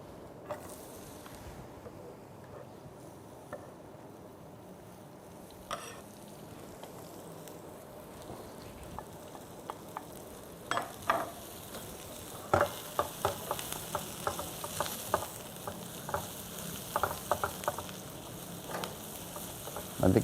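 Onions fry in hot oil in a home kitchen, a faint, soft sizzle that builds into sharper, more frequent crackles and pops over about twenty seconds, with no talking.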